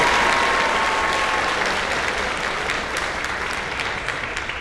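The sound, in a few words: audience applause at awards night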